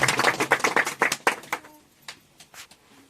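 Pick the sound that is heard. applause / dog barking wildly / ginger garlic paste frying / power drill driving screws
applause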